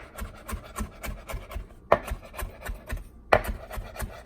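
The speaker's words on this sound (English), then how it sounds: "Remember what I tell you about chopping?" A knife chops food on a cutting board for a low-carb taco recipe in a steady, fairly quick rhythm of close, soft thuds, with two sharper knocks in between.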